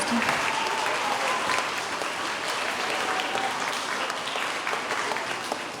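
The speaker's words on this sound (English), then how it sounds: "Let's give these fourth graders a round of applause for the 4 on their math state test." An elementary school assembly audience applauds fourth graders, a dense, even wash of many hands clapping that holds steady throughout, with faint voices mixed in.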